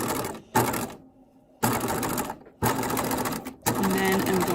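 Short bursts of a sewing machine back stitching at the start of a zigzag seam finish, close rattling runs broken by brief pauses, ending in a longer steady run.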